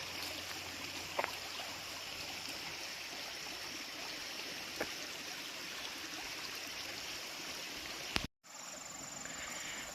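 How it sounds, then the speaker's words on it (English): A stream flows steadily beside a lake, a continuous broad wash of running water heard close and alone for about eight seconds before cutting off abruptly, with a couple of faint clicks along the way. "And there is where that stream is flowing to."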